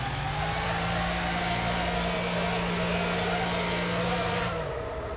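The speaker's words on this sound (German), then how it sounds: "Rückwärts fahren ist irgendwie blöd mit dem Auto." A car driving in reverse in the racing game Wreckfest gives a sustained engine drone with a steady whining tone that runs evenly for several seconds before cutting off near the end, loud and alone without speech.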